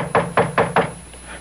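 Four sharp knocks on a door come in quick even succession, loud and close, followed by a brief quiet room tone in a dramatized radio mystery scene.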